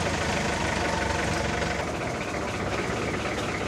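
A loud engine running steadily with a dense, rumbling drone and constant mechanical clatter throughout.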